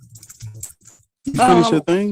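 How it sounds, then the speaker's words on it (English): Quick keyboard typing clicks off to one side, faint and scattered, before a voice speaks over it loudly. "you typing fast as fuck"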